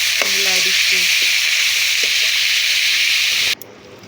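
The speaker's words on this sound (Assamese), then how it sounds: "মই এতিয়া ধুনীয়াকৈ লৰাই দিছোঁ এই পিঁয়াজখিনিৰ লগত যাতে ধুনীয়াকৈ মিলি যায়" Onions sizzle loudly in a frying pan with turmeric and salt as they are stirred, a strong steady frying hiss with small scraping knocks from the stirring, cutting off abruptly near the end.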